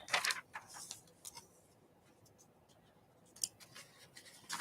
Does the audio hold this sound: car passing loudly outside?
no